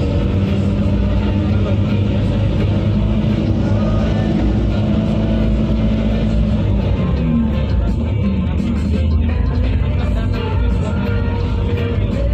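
Interior of a 2021 PT IMIP employee bus on the move, a steady loud engine and road rumble with constant low drone and rattling, plus a faint murmur of voices in the cabin.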